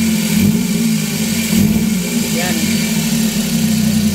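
A Suzuki K6A engine in a DA63T truck, misfiring and low on power, idles loudly with a steady low drone and a slight swell as the accelerator is pressed, under a voice talking.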